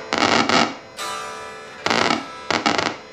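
WMD Geiger Counter distortion pedal on preset 12, swept with an expression pedal: harsh, noisy bursts of fuzzed tone in separate stabs with a sustained drone between them, loud and alone.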